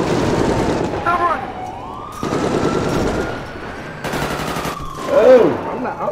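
Police siren in a video game wails in a long rising and falling tone, overlaid by bursts of gunfire and shouting voices.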